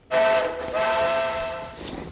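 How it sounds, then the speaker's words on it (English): A cartoon train sounds a long steady whistle, loud and close, that holds for about two seconds before fading out. "Peep, peep, clickety-clack."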